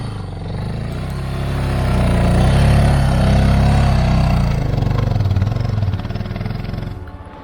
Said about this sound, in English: the DR650 Suzuki, is that it's commonly known as the tractor, and it's immense torque, plenty of power down low,